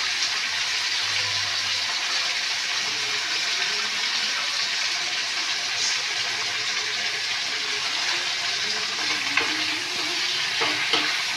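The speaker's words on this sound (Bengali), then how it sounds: "পেঁয়াজগুলো একটুখানি ভাজা হোক" Onions and cauliflower fry in a pan with turmeric, giving a steady, moderate sizzle throughout, with a few stirring clinks near the end.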